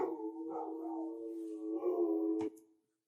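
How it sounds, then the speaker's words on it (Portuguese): Puppies bark and yelp in a sustained, tonal run of whining cries that ends with a short sharp bark before trailing off into silence. "Os cachorrinhos estão fazendo um pouquinho de furdunço."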